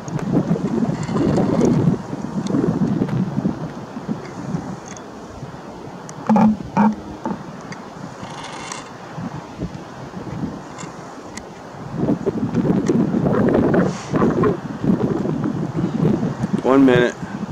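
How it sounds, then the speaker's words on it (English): Strong wind around 100 mph roars and buffets a microphone in gusting surges, loud throughout with rumbling bursts, while a person speaks intermittently. "It's just shaking so much from the wind."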